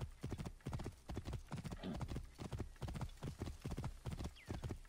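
Horse hooves clip-clopping steadily at a brisk riding pace through a city street in Assassin's Creed Origins, regular close hoofbeats on hard ground with faint background game ambience.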